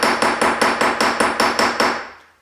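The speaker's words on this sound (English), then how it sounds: "I've got my planishing hammer. Kind of hammer my edges here, just to give it a nice flare." A planishing hammer strikes the edges of a metal bracelet on a bench block, nine bright evenly spaced ringing blows in a quick rhythm, close up, with the last ring fading out.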